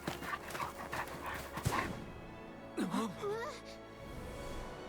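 A big dog pants in the video game Visions of Mana, with short breathy bursts and a few whimpering sounds, heard close under people talking.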